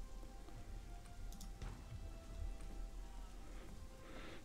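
Steady rain falls inside a built structure in the survival game Conan Exiles, a dense constant patter with a low rumbling bed and occasional louder drips, no voices.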